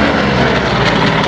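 A WWII fighter, a P-38 Lightning or Corsair, flies past at the 2013 Ferté-Alais airshow, its loud piston engine droning steadily and close for the whole moment.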